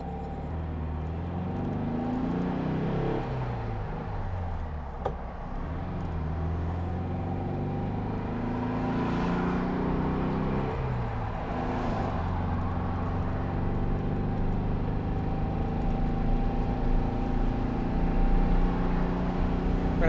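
A 1964 Volkswagen Beetle drives steadily on the road, its engine droning as the pitch rises and drops through several gear changes, close and continuous with no talking.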